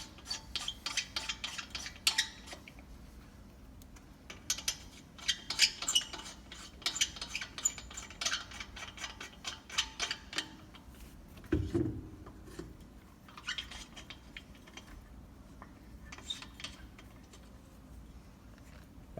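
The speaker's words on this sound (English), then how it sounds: "simply reinstalling the lugs that I took off from the old wheel onto the spare tire" Lug nuts are threaded by hand onto a car's spare tire wheel, giving scattered close metallic clicks, taps and light rattles in irregular clusters, with one brief dull knock partway through.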